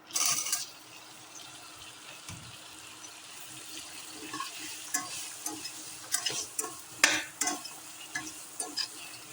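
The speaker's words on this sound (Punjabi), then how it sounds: "ਇਸੇ ਤੜਕੇ ਦੇ ਵਿੱਚ ਆਪਾਂ ਹੁਣ ਭਿੰਡੀ ਦਿੰਨੇ ਆਪਾਂ" Okra tossed into a hot spice tempering sizzles and fries steadily, with stirring scrapes and clinks growing busier toward the end; no one speaks.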